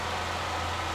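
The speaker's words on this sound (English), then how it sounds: "there's the Ecotec 4-cylinder, running smooth, sounding nice and strong" A 2008 Chevrolet Cobalt's Ecotec 4-cylinder engine idles steadily in a brief, even, faint hum with a low drone and broadband hiss, with no talking over it.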